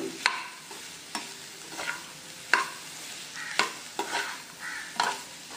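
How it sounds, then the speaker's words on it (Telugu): Broccoli and tomato with coriander leaves stir-fried in a pan: a soft sizzle runs under repeated sharp scrapes and clacks of a spatula, about eight strokes at an uneven pace, close by and with no voices. "కొంచెం కొత్తిమీర వేసుకున్నాక ఒక్కసారి ఫ్రై చేసుకుందాం కలుపుకుంటూ."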